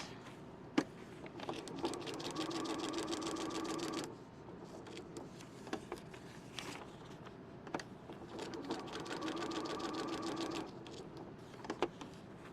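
A domestic sewing machine stitches fabric in two steady runs of rapid, even mechanical whirring, separated by a short pause filled with light clicks and handling sounds, close and moderately quiet.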